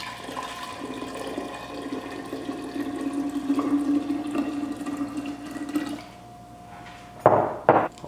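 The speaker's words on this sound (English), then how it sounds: "I'm gonna take half of this and dump it into our 1 gallon container." Concentrated sweet tea for kombucha poured into a one-gallon container, a steady splashing pour lasting several seconds before it stops, followed by a couple of short clinks or knocks near the end.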